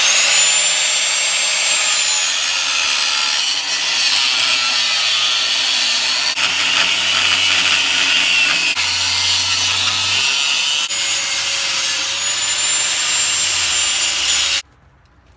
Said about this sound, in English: you're going to once again use your trusty angle grinder and just go to town on it